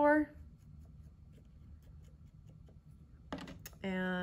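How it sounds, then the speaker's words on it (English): A small serrated metal rim scoring a spot while making bone handles, faint close scratchy scraping between bursts of speech at the start and end. "So I'm using this little serrated metal rim to score,"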